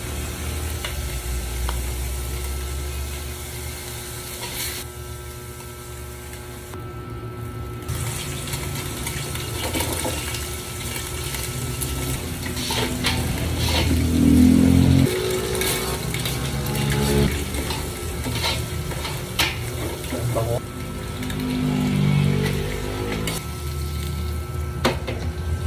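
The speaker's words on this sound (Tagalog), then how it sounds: "sisimula tayo mag-isa ng pork" Pork sautéing in a pan for cheesy menudo, a steady close sizzle and crackle with stirring scrapes that swell louder mid-way, no talking.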